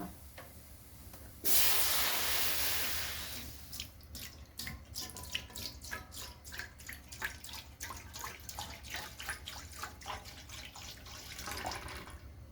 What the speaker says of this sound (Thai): ตั้งกระทะนะคะ ใส่หางกะทิค่ะ